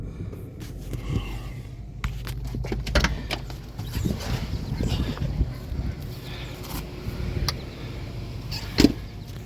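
Dodge Challenger rolling off a trailer onto gravel during unloading, with low engine rumble, clunks and crunching gravel throughout and a sharp knock near the end.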